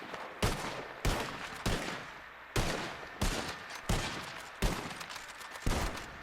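Reenactors' rifles fire by file in a drill, about ten sharp reports in an uneven ripple over six seconds, each with a short echoing tail, heard outdoors and fairly close.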